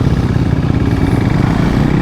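Close, loud, steady engine roar of a KTM RC390 Cup motorcycle with a quickshifter on a race track, sustained through a gear change into second without a clear break.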